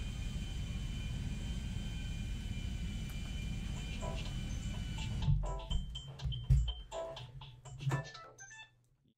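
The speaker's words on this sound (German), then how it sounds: "Was steht denn da für ein Flugzeug?" An airliner in GTA V, marked Adios Airlines, gives a steady, moderately loud engine drone for about five seconds. The drone then cuts out, leaving a few scattered clicks and ticks.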